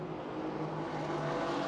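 Several cars running laps on a race track in Miami, a steady, fairly distant engine whir with a faint rising rev, no voices.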